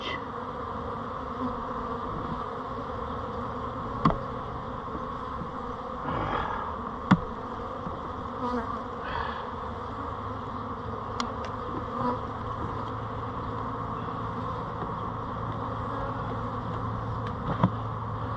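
Steady, dense buzzing of many honey bees on hive frames, with a few soft clicks and knocks, continuous and fairly close.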